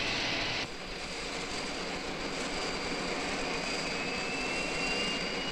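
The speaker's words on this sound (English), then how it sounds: "Sure, that plane travels 600 miles an hour." A jet airplane flies overhead with a broad, steady roar that holds loud and even throughout, with a faint high whine running through it and no voices.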